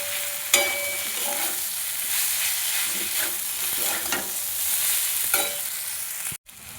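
Cauliflower being sautéed with ground coriander, cumin and Kashmiri chilli powder in a pan: a steady, close sizzle with occasional scraping stirs and sharp clinks, ending in a brief dropout.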